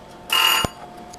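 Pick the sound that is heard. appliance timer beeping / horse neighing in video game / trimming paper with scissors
appliance timer beeping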